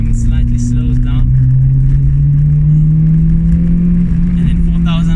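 A 20-valve twincam 4AGE engine in a Toyota Corolla revs steadily, its droning note climbing slowly in pitch from start to finish, loud and continuous with faint voices over the top.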